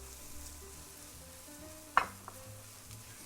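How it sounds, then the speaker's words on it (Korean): Rice stir-frying in a pan with sesame oil and freshly added almond powder, for an almond brown-rice porridge; a soft, steady sizzle with one sharp scrape or clack of the spatula near the middle, no voices. "자, 맛있게 볶아지고 있죠."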